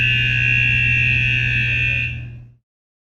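An H2S gas detection alarm on an offshore rig sounds a loud, steady electronic buzzing tone that holds unbroken for about two and a half seconds before cutting off.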